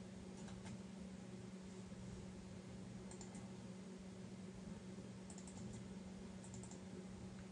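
Steady, fast clicking of a computer keyboard as a command is typed in a forensics lab, with several brief bursts of keystrokes over a constant low fan hum.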